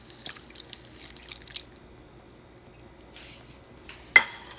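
Okra sauce is stirred in a pot, giving faint scattered scrapes and wet clinks against the pan across several seconds, then one sharper metallic knock near the end, in a quiet room with no voices.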